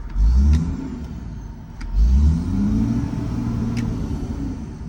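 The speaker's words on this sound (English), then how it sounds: "Give it another little rev here." A huge diesel pusher RV engine revs twice in quick bursts, each a deep loud rumble that swells and then settles back to a steady idle, with no voices.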